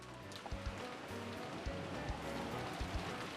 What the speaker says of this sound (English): Though she had an umbrella up, Erika got drenched as she sprinted